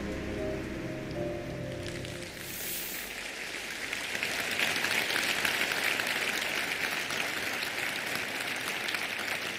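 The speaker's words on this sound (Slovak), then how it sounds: "Dámy a páni, takýmto veľkým potleskom ste privítali prvé 3 nominácie" Sustained applause from a large awards-show audience, a dense steady clatter of clapping that swells louder midway and continues without a break.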